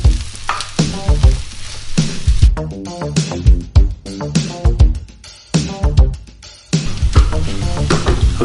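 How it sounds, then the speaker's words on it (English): Tempeh sizzles and crackles loudly in hot sesame oil in a pan, a continuous close frying hiss with bursts of spatter and stirring. "I'm going to throw in my tempeh. And I want to fry that till it has a little bit of a golden colour"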